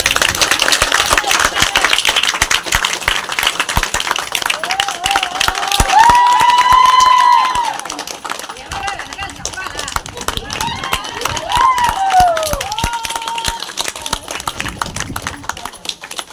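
An audience claps loudly and continuously at a Guru Pournami celebration at a yoga theme park, with a dense patter of hands and a voice sounding over the applause at times.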